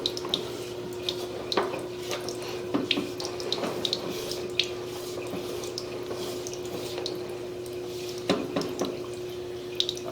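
Water trickles and drips steadily through a deteriorating sewer pipe with roots intruding through its crown, a soft continuous wet flow with scattered splashing drips over a constant low hum.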